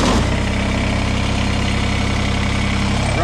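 A Kubota BX2380 compact tractor engine catches and settles into a loud, steady diesel idle right up close, a constant low rumble with an even pulsing throb and no talking.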